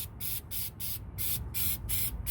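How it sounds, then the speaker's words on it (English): Rust treatment aerosol sprayed onto a rusty semi truck chassis in repeated short hissing bursts, about eight in quick succession with brief gaps, close and fairly loud, no talking. "So I'm gonna spray it."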